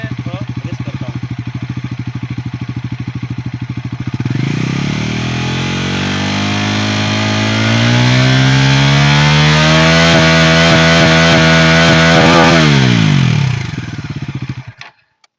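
A Bajaj Pulsar NS400 motorcycle engine idles with a rapid, even thumping, then revs up into a loud, rising roar that holds for several seconds before cutting off abruptly.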